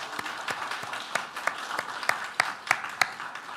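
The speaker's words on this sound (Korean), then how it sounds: "우리 박수로 환영하겠습니다" A church congregation claps to welcome a newly registered member during a Sunday service. The applause is scattered and fairly light, with distinct individual claps in an uneven rhythm that grows a little sharper toward the end.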